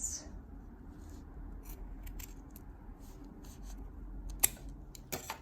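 Scissors trimming the fabric near the end of a zipper while sewing a colorblock fanny pack, heard as a few quiet, sparse snips and faint scrapes close by, with no talking.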